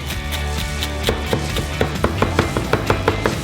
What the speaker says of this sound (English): Finally, chop up some fresh spinach leaves.